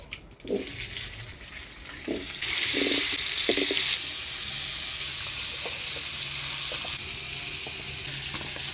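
Potatoes fry in oil with turmeric and salt, a wash of steady sizzling that flares louder for a few seconds, with scattered knocks and scrapes from turning them, and no speech.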